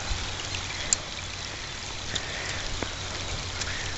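Steady rain falling outdoors during a trapping outing, a continuous broadband patter with occasional louder individual drops, close and unbroken.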